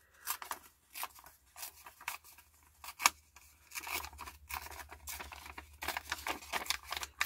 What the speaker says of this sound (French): Donc, je déchire.